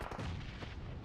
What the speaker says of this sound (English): the shots continue to pepper on through